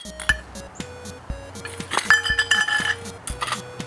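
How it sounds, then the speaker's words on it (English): Pieces of scrap lead clink and clatter into a metal cooking pot used for melting, several sharp metallic knocks close up, with a busier run of rattling contacts in the middle. "I'm going to put this in my cooking pot where I'm going to be melting"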